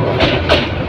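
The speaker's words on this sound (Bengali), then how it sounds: "কিছুক্ষণের মধ্যে বলকা কমিউটার ট্রেনটি বিমানবন্দর রেল স্টেশনে প্রবেশ করবে" Bolaka Commuter train from Mymensingh pulling into platform 4 at Dhaka Airport railway station, heard as a steady, loud broadband rumble and rattle of rolling cars at close range with no pause.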